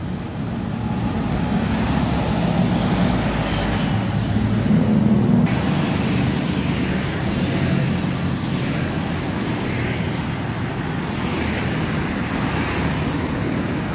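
Star Bus coach rolling along a busy Pantura highway among other intercity buses, a loud continuous rumble of engine and tyre noise with a passing swell, steady traffic all around and no voices.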